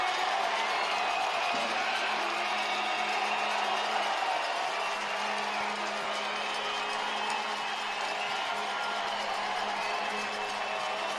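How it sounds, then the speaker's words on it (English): Football stadium crowd roaring after a penalty goal at a New Mexico United versus Colorado Springs Switchbacks match, a loud, sustained wall of cheering and whooping that holds steady throughout. "Listen to the reaction of that crowd as well."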